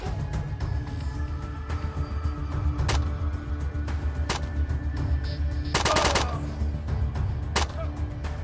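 Gunfire in the ATOM RPG video game cuts through a low droning background as a few separate sharp shots ring out, then a rapid automatic burst around the middle, followed by one more crack.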